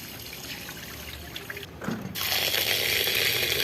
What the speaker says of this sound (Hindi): पानी इसका हम निकाल देंगे।